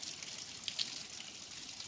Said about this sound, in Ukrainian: а в нас дощ